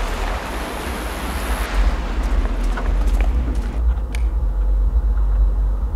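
Loud, constant rushing water and surf-like noise from the video game Sniper Ghost Warrior 2 fills the whole stretch, with faint clicks near the end.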